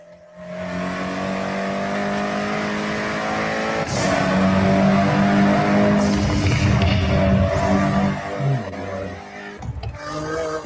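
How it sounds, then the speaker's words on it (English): A race car engine from a video game roars loudly and continuously, rising through revs with a gear-change dip and a rougher burst near the end, with no talking. "Our cars sound better than ever, with greater detail and remastered audio"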